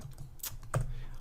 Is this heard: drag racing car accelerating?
no